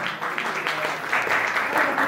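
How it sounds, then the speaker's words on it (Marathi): Audience applause after a song at a sangeet celebration: sustained clapping from a crowd that swells slightly toward the end, with some voices mixed in. "त्यांच्यासाठी एका जोरदार टाळी जाऊ द्या."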